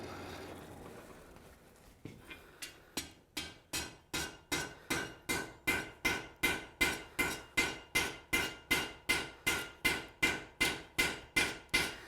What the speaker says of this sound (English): as I'm hammering this, I'm trying to keep both sides of my scroll as even as I can.